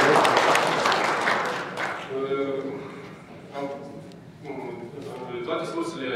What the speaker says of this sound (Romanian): Eu cred că merită aplauze și felicitări din partea noastră pentru acest succes.